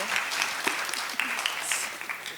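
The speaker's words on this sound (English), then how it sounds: "Round of applause, please." Audience applause for a presenter at the ICASA 2025 HIV conference session, a dense, steady patter of many hands clapping at moderate loudness throughout, with no voices over it.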